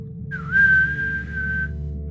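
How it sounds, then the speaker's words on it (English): A person whistles a single sustained note into a dark cave passage, the whistle clear and fairly close, lasting just over a second over a low steady background hum. "I whistle."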